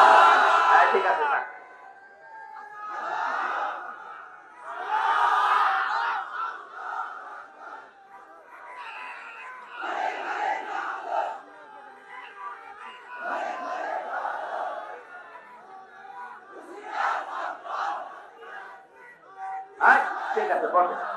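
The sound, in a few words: crowd chanting takbir (Allahu Akbar) in response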